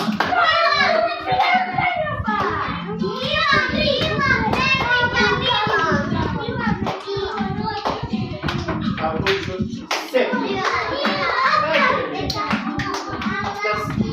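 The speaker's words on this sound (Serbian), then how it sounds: "I aplauz za Janu." Children clap in applause during a musical chairs game, the clapping mixed into loud, excited children's voices and singing throughout.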